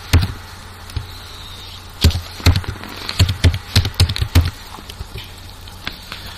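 Keystrokes on a computer keyboard while someone enters a sample ID number into an online form: irregular clusters of close, crisp clicks, alone without speech.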